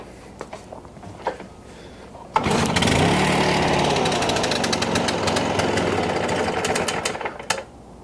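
Stihl BR800X backpack leaf blower, its engine running with the choke on: brief idle sputters, then a sudden loud, rough, steady roar that holds for several seconds before dropping away near the end.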